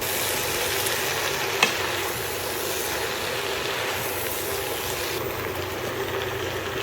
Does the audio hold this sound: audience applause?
no